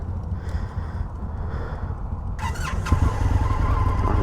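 An Indian FTR V-twin motorcycle engine gives a low, rough idle rumble, then the sound shifts sharply partway through into a brighter, louder running note with mechanical whine.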